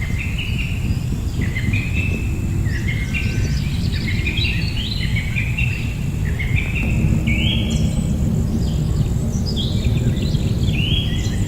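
Birds sing repeatedly in a forest, bright whistled phrases rising and falling over a constant dense hiss of wind and insects, with no voices.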